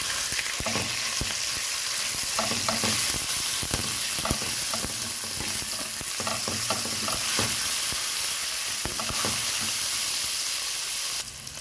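Ground meat frying in a pan for sautéed vegetables, a loud continuous sizzle and hiss with intermittent scraping and stirring knocks, close and steady.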